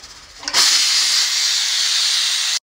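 A pressure cooker of boiled potatoes is opened after two whistles, releasing a loud, close, continuous steam hiss that starts abruptly and runs alone for about two seconds before cutting off.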